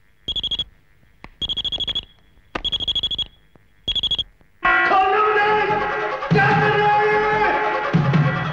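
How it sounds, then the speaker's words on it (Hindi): Four short bursts of rapid electronic beeping ring out from a transmitter signal receiver alarm, separated by brief silences, before loud dramatic film music takes over. "जब भी सूर्यदेव सिंह को हमारी जरूरत पड़ेगी तो इस पर अलार्म बज उठेगा"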